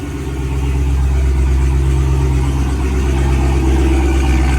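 A Dodge Hellcat V8 fitted with a new Griptec upper supercharger pulley idles steadily, a loud, close, deep rumble with an even low drone and no talking.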